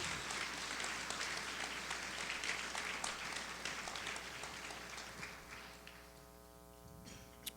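A church congregation applauds during a bilingual service, a dense, steady wash of many hands clapping from a distance that slowly thins and fades toward the end, with a faint tonal hum beneath.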